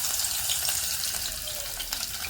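Garlic frying in hot oil for a tempering, a steady bright sizzle that stays even and close throughout the short moment, with no talking.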